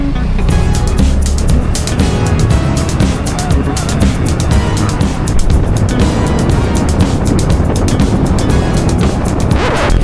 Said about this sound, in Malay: Naik motor.